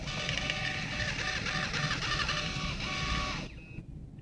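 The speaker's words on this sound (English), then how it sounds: "So it's printing the invoice." Handheld printer printing an invoice, a continuous buzzing whir with faint mechanical chirps at steady loudness, stopping near the end.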